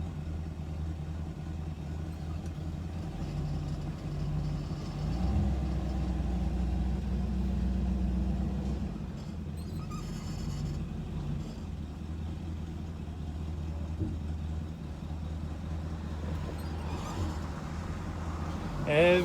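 A classic Ford Maverick with its carburetor under adjustment rumbles steadily while driving slowly around the block, a low engine drone that swells noticeably for a few seconds midway before settling back to an even hum.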